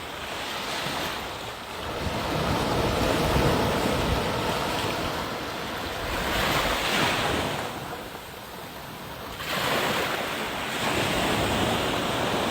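Ocean waves wash in on Heywoods Beach, Barbados, a loud rolling surf that swells and recedes in several broad surges, with wind rushing over the microphone.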